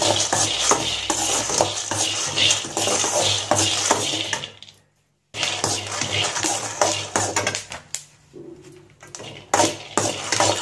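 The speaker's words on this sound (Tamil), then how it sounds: "இந்த அளவுக்கு நல்லா வந்து வறுத்து எடுத்துக்கணும்." Peanuts dry-roasting in a pan for Tamil idli podi, with repeated scraping and rattling as they are stirred against the metal, close and busy, pausing briefly midway before the stirring resumes.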